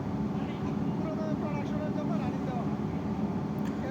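A Karl Mayer sizing beam machine, Chinese-built, runs in a textile mill with a steady, loud mechanical drone and hum that fills the space, while a voice talks over it.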